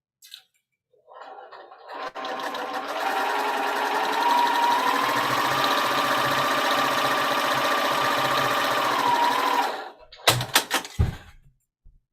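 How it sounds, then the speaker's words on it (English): A sewing machine stitches along a drawn line to join squares into a pumpkin stem unit, a steady mechanical whir running for about eight seconds, followed by a few sharp clicks and knocks. "I'm gonna sew right on the drawn line to make the stem unit"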